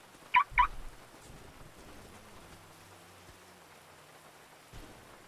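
Steady rain from a storm in a GTA roleplay game, a soft continuous patter with two short sharp bird-like squawks near the start and a faint low thump near the end.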